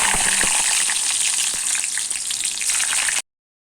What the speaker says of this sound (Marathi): इकडे कढई तापत ठेवलेली आहे त्यामध्ये आता आपण लसूण टाकून घेणार आहोत